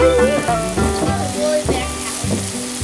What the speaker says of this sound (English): I'm just going to drop some bacon on quickly